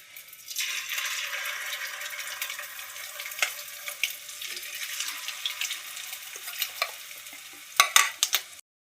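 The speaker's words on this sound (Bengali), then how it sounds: "এক এক করে আমি ছেড়ে দিচ্ছি তেলের মধ্যে।" Chicken pieces for chilli chicken dropped one at a time into hot oil, giving a dense bright sizzle that rises as they go in, with small pops and clinks near the end and no talk.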